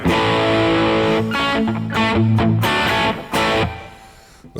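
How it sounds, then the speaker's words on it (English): Electric guitar played through a distortion or overdrive effect, sustained crunchy chords that ring out and change a few times, loud and close, played alone without talk. "It's obviously a distortion of some sort. Whether it's like a distortion, an overdrive, I don't really know."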